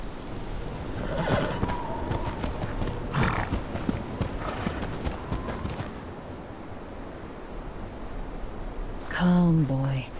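Horse in the Game of Thrones Kingsroad video game: a horse snorts and gives a loud, close whinny near the end, with clopping hooves and ambient rain-like noise earlier under the scene.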